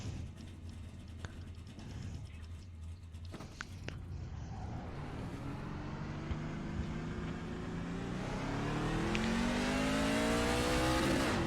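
Race truck engine from a NASCAR-style Truck Series racing game at Nashville, starting quiet and building into a loud, steadily rising revving drone as it accelerates over the lap, with no voices.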